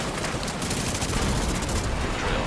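Rapid, continuous fire from the Chameleon exotic assault rifle in The Division 2 video game, dense and loud throughout the short burst with no talking.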